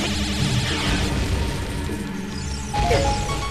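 A bomb blast in the Ocarina of Time video game bursts over a busy game soundscape, with a single loud, sharp boom near the end standing out against the steady background.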